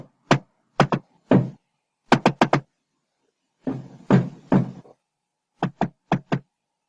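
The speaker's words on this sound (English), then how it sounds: "Stop banging on the bloody wall!" Banging on a wall as a sound effect in an audio play: sharp, loud knocks in quick clusters of two to four, separated by short silences, with one longer rattling burst in the middle.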